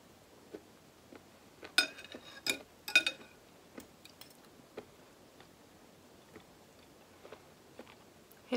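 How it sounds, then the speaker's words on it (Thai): Close, quiet crunching bites of crispy fried mushrooms, a series of sharp crackling chews clustered together then spacing out, with faint clinks and no speech. "เห็ดมันกรอบจ้ะที่เคี่ยวดังๆนี่เสียงเห็ดมันนะ"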